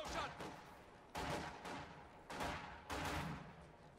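Infantry support gun firing at long range during a Company of Heroes 2 battle, a run of four loud, sharp broadband blasts spaced roughly a second apart, each trailing into rumbling battlefield noise.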